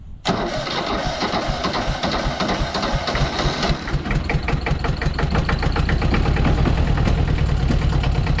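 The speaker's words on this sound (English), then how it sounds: "Allis-Chalmers. Neutral. Give it a little throttle." A cold-started Allis-Chalmers 5020 tractor engine runs in neutral and is given a little throttle. It is loud, steady and close, with a fast, even diesel clatter that picks up slightly partway through. No talk.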